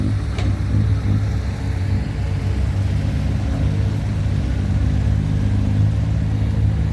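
Engines of a six-wheel truck and a John Deere tractor working at a site after rain, a loud, continuous low rumble that holds steady and close without pauses or talk.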